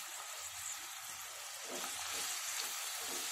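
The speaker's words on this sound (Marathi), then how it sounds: "कांदा आपल्याला थोडासा लाल होईपर्यंत परतून घ्यायचा आहे" Onion sizzles and fries steadily in hot oil in a pan with cumin seeds and red chilli, a continuous bright crackle with soft stirring scrapes underneath, close and fairly loud throughout.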